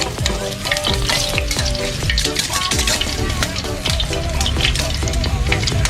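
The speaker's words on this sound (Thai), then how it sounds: "ใช้ตะหลิวคนนิดนึงนะครับ ก็ได้เลยนะครับนี่นะให้กรอบนิดนึงนะครับ" Oil sizzles loudly and continuously in a wok while a metal spatula scrapes and clanks as food is stir-fried until slightly crispy, up close.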